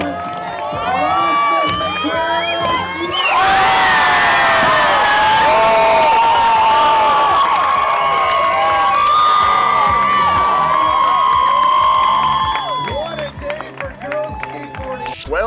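A skatepark crowd erupts into loud cheering and whooping as a skater lands a 540 McTwist, rising sharply after a few seconds of scattered shouts and holding a roaring wall of cheers, with an announcer talking over it.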